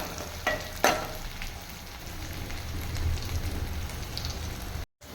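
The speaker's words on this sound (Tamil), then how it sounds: "பச்சை மிளகா போட்டுக்கலாம் பச்சை மிளகா நல்லா வதங்கட்டும்" Green chillies sautéing in hot oil with onions give a steady, fairly quiet sizzle and crackle throughout, broken by a couple of brief stirring knocks near the start.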